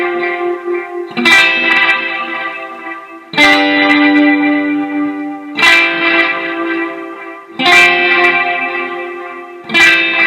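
Electric guitar playing big fat chords struck hard and left ringing as whole notes, heavy delay, reverb and chorus smearing each chord into the next; about every two seconds, loud and close, no voices.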